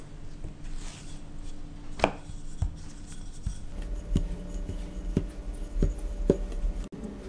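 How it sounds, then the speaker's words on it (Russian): Dough for lazy pelmeni rolled into a thin, elongated sheet about 2–3 mm thick: close rolling-pin rubs and soft knocks against the board, repeated at an irregular rhythm, with no voices. "И раскатываем каждую часть, тонкий пласт, примерно 2-3 мм толщиной."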